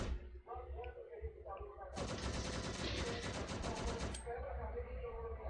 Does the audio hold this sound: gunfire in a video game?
yes